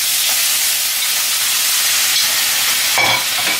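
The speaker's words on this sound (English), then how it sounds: "this is cooking now, like it's boiling" Pot of liquid for coq au vin boiling on a stove, giving a steady, close hiss and bubbling sizzle with brief clinks near the end, and no talk.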